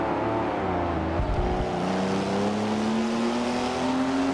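Race car engines drone steadily at dusk in the Forza racing game, a loud sustained roar with rising engine pitch and a brief low thump early on, no voices.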